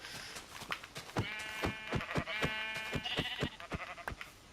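Sheep bleat repeatedly at close range, several wavering calls overlapping in an uneven rhythm, loud and clear with no talk.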